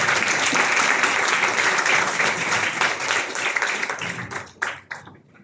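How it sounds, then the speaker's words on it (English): Attendees at a university physics conference valedictory ceremony give a sustained round of applause, thick and continuous, then thinning in the last second into a few scattered, separate claps. "A big round of applause, friends."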